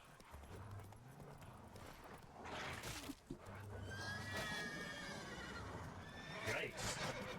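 A horse neighs and whinnies in The Witcher 3, with hooves clopping beneath it, repeated whinnies and snorts over a busy game soundscape while someone talks over parts of it.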